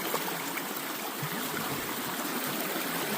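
Heavy water rushing steadily through a gold prospecting dredge mat and grizzly in a stream, a dense continuous wash close by with no talk.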